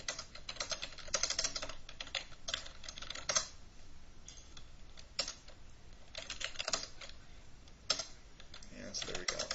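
Typing on a computer keyboard while drafting in AutoCAD, a quick, irregular run of close, crisp key clicks in bursts and pauses that carries on steadily with no voice over it.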